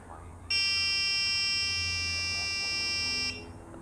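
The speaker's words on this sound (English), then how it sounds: "We got that beep telling us it's armed" A single sustained electronic beep from a Matek F405 flight controller signalling it is armed, bright and buzzy, holds for about three seconds over quiet background hum.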